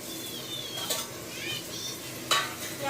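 Tomatoes go into sautéed onions for biryani, stirred with a utensil against the pan over a steady sizzle, with metallic scrapes and a sharp clink near the end, close and clear.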